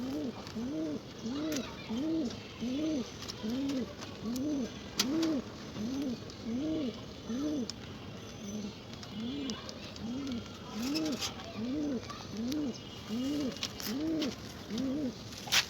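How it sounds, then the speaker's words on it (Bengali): Pigeons cooing in a steady, rhythmic series of low rolling coos repeated over and over, close and moderately loud, with light background noise and clicks and no talking. "এই যে এগুলো আমার আরে এগুলো আমাদের কবুতর"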